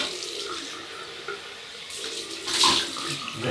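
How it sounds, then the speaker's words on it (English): Tap water gushes steadily into a basin for a cold rinse after a wet shave, running alone and swelling louder near the end. "Cold water rinse."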